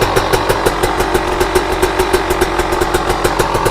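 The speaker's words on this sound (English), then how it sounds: "I'll sit here and let it idle for a while" A KTM, Husqvarna or GasGas TBI/TPI two-stroke dirt bike engine idling while it warms up, loud and close, with a fast, steady putter and no voices.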